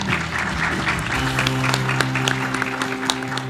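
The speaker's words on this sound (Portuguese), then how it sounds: "Aplausos ao Vitor, seja muito bem-vindo." Audience applause at a rural agribusiness forum, a steady wash of many clapping hands heard close, with sustained musical tones underneath that begin partway through.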